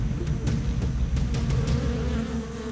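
Swarm of giant honey bees flying around high colonies in the wild, recorded 6 to 8 feet from the nearest colony: a loud, dense, continuous buzzing drone close by with a few sharp ticks and flicks, easing slightly at the end, no talk.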